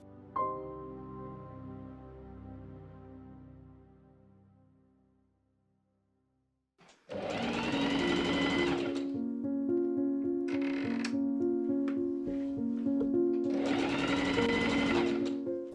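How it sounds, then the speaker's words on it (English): Machine stitching French seams in linen along dress sleeve and bodice sides: a fading hum first, then after a short silence a loud, steady whirring sewing-machine run with rhythmic needle chatter and brief pauses, close and alone. "I trim, pin, and machine sew the finished French seams along the sleeve and bodice sides."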